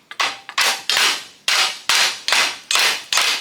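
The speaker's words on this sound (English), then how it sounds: "Now, probably need a hammer. Tap right there." A hammer strikes the metal brake stud of a Jeep Cherokee about eight times at an uneven pace, each sharp close blow ringing briefly before the next.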